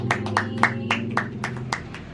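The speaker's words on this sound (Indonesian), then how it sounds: "Tepuk tangan dulu dong untuk kelompok ibu ini." A small group of women claps for their team, about eight loose claps in a steady rhythm, moderately loud over a low background murmur.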